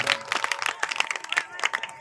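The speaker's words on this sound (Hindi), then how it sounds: "एक बार जोरदार ताली में स्वागत करें" Audience at a religious discourse in Farrukhabad claps in a brisk, uneven burst of applause welcoming a speaker, many hands close together and fairly loud, with a voice faintly beneath.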